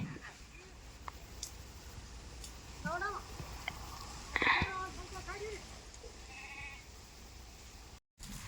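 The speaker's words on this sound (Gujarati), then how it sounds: "આપણી વાડીમાં ઘેટા ચરે છે" Sheep bleat a few times at a distance while grazing on a farm, over a quiet outdoor background, with a person talking nearby.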